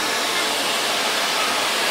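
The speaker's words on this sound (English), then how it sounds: "And you blow dry the ends first." A hair blow dryer dries the ends of natural hair during styling, giving a loud, steady, close rushing roar of air without a break.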